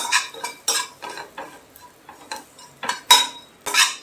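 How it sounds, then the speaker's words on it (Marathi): Pieces of dry mackerel fry in hot oil while a utensil stirs and scrapes them in short, regular bursts, the clanks close and fairly loud with quiet pauses between. "तेतून हे सुक्या बांगड्याचे कुडके घालता, आनी ते एक 2 ते 3 मिनटां मातशे भाजून घेता हे तेला बरोबर"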